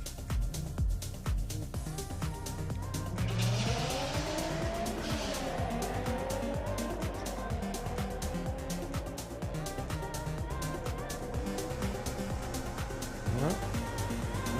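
Drag race launch at Santa Pod Raceway as a Nissan R32 takes on a BMW: loud engines rev and rise in pitch, tires squeal, and the cars roar off down the strip, with a commentator talking throughout.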